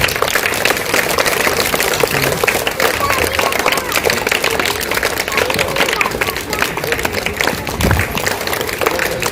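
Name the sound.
applause at a school Independence Day program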